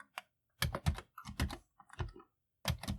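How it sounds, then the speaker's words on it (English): Bursts of rapid typing on a computer keyboard, close and clear, come in short clustered runs separated by brief pauses, with no one speaking. "I got tired of typing that out"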